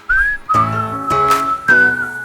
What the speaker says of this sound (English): we're about to put them together and start whistling